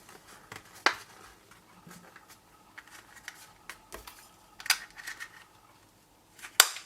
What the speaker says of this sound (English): I might want to punch a hole first.